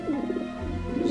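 Pigeons coo in low, soft, repeated warbles inside the video game Grim Fandango Remastered, a steady murmur of calls running through the short stretch with no talking.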